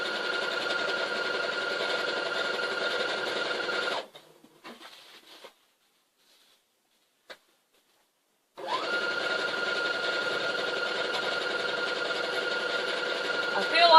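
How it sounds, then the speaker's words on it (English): A new sewing machine stitching a feather pillow runs in a steady, fast mechanical whir, stops for several seconds of near silence with a faint click, then starts up again and keeps humming close by. "I feel like I'm trying to learn how to sew all over again with a new sewing machine"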